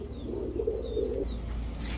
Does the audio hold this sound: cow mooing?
no